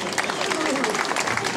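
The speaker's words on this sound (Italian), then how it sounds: "Voglio degli applausi strepitosi" Short burst of enthusiastic audience applause welcoming a special guest at a fashion show event, loud and dense, with a voice speaking over the clapping.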